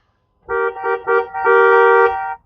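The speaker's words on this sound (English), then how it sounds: "Let's honk the horn." A 2026 Honda Prelude coupe's car horn: three short honks in a quick rhythm, then one longer sustained blast, loud and close with a steady tonal blare, no talking.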